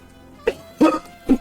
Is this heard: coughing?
yes